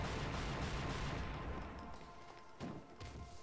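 Dense, rapid gunfire in the video game Devil May Cry 2 crackles continuously, then thins into scattered shots and thuds with a faint voice underneath.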